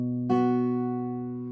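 An acoustic guitar rings out with a thumb-plucked bass note joined by two fingered strings, the chord sustaining and slowly fading, close and clear with no talking.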